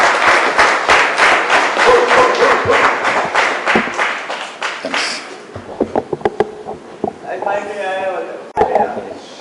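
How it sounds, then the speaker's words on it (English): Crowd at an evening cultural event giving a round of applause for the mayor, lively rhythmic clapping for about five seconds that thins into scattered claps, followed by a voice talking at the end. "So let's have a round of applause for His Worship."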